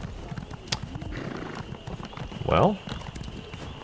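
A horse in the Elder Scrolls Online video game clip-clops at a steady pace. A loud neigh rises midway over the hoofbeats, with a brief spoken word from a player.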